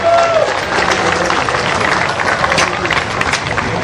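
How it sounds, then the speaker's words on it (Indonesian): Indoor audience applauding at a White Cane Day commemoration in Jakarta, dense sustained clapping from a sizeable crowd, loud and close, with voices mixed in. "Mohon tepuk tangan."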